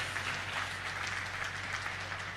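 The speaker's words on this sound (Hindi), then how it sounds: "एक बार इन सब के सम्मान के लिए हम सब तालियां बजा करके" Audience applause fills a hall at a religious discourse gathering, a steady, soft wash of many hands clapping without a break.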